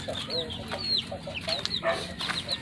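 JB Kelso gamefowl cross chickens cluck and chirp in short, scattered calls close by, over a steady low background hum.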